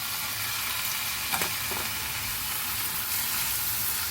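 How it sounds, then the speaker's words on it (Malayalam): Finely chopped large tomato sautés in a pan for a puttu-tube biryani, giving a continuous close sizzle with a couple of brief spoon scrapes. "ഇത് നമുക്ക് നല്ലപോലെ വഴറ്റി കൊടുക്കാം."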